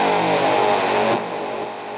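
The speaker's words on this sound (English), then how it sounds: "Going on, Synth 3. That's more for a low-end growling tone." A low, growling distorted guitar synth tone from a Line 6 POD HD Pro on its Synth 3 setting sustains loudly, then drops slightly in level halfway through as the note shifts, with no voices.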